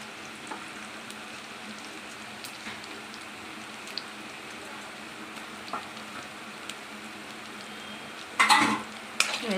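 Onions and chopped green chillies fry in a pan for a mutton keema curry, a faint steady sizzle that ends in a short burst of louder clattering stirring.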